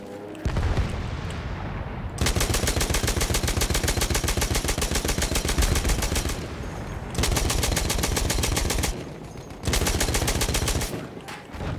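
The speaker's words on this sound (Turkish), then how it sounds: "Kafama atıyorlar mermileri." Sustained automatic gunfire in Battlefield 1, long dense rattling bursts of rapid shots aimed at the player, loud and close, broken by short pauses before resuming, with no talking.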